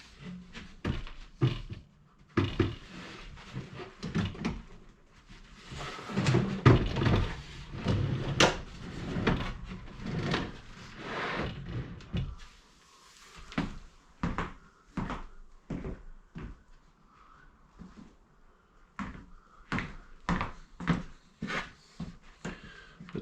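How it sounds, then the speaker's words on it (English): Plywood drawers in a 2002 MCI bus conversion pantry slide open and shut on drawer glides, a series of close wooden knocks and rolling slides, busiest early on and then sparser, with no voices. "But these drawer glides and everything work really well."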